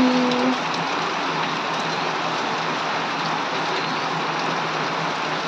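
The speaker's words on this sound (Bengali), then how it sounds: "বৃষ্টি পড়ছে" Steady, even rain hisses down continuously, close and fairly loud, with a short tonal sound at the very start and no other clear events.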